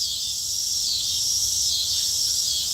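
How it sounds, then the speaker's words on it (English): Cicadas buzz in a steady, loud, continuous high drone throughout, with a faint low rumble beneath and no talking. "The cicadas."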